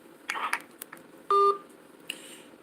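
A telephone keypad gives a single clear dialing tone, brief and steady, among faint clicks and handling sounds.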